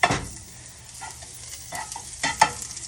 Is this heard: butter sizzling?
yes